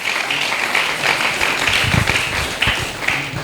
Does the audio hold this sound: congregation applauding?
yes